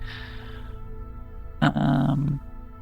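A dog in the video game Technobabylon gives a short, close growl of about a second, rising over a steady low game ambience and fading back into it.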